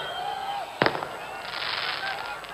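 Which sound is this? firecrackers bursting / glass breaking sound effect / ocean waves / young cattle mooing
firecrackers bursting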